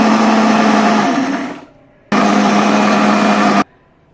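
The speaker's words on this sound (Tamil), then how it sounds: "தக்காளி சட்னி பாருங்கள், நல்லா கலர்ஃபுல்லாக நல்லா அரைப்பட்டுடுது." A kitchen blender grinding tomato chutney roars loudly for about a second and a half, winds down briefly, then starts again in a second steady whirring burst before cutting off abruptly, with no talking.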